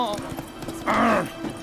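The horse Roach in the video game The Witcher 3 moving under its rider, a short burst of hoof clip-clop with a brief whinny, over background game music.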